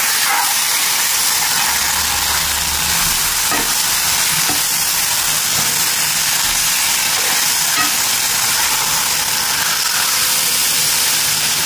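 A steady, loud sizzle of frying okra with soft scraping and stirring as ground paste is mixed in, no voices.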